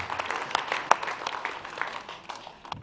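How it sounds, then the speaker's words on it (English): Scattered applause from a crowd at a wildlife fundraiser auction after a winning bid, uneven claps rising and thinning over a few seconds at moderate distance. "Give her a round of applause"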